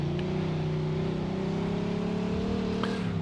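A fast car's engine in the video game Mafia II revs loudly and steadily, its pitch climbing slowly for a few seconds, close and continuous with no speech.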